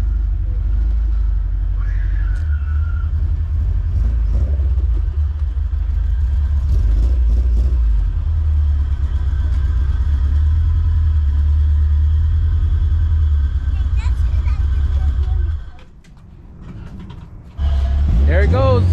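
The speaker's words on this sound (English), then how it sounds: "I'm gonna go ahead and bring the car up on the driveway backwards" A car engine rumbles steadily at close range with low idling and revving as the car backs up onto a driveway, voices talking over it, then a brief dip before the motor noise returns.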